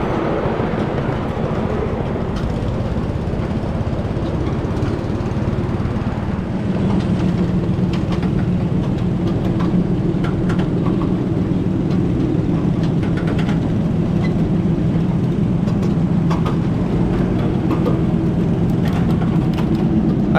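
Small-scale ridable trains with electric locomotives roll by at a live steam club meet on a miniature main line, a steady rumbling hum of wheels and motors that stays constant throughout, with no talking.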